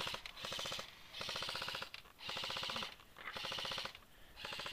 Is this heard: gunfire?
yes